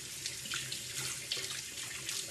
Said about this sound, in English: And now, just gonna rinse it out.